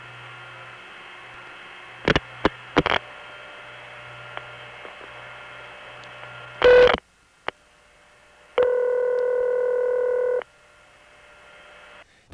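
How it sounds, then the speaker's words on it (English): Telephone signalling on a 1977 long-distance call routed through crossbar tandem switches: a steady line hum, several sharp dial-pulse clicks, a burst of multifrequency tones, and a sustained tone lasting about two seconds before the line falls quiet. "MFs 7 digits to Binghamton crossbar tandem, which again dial pulses into a step."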